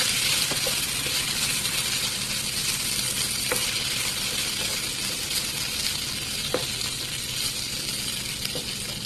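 Potatoes frying and sizzling steadily in a pan for a simple aloo bhaji, with occasional sharp scrapes and clinks as they are stirred, close and continuous without any talk.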